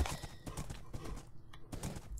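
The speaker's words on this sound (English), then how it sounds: "Ooh, you are such a fast horse, sir." Horse hooves clip-clop in Minecraft, a quick run of hollow knocks repeating at an even gallop rhythm, close and fairly loud, with one short whinny-like tone partway through.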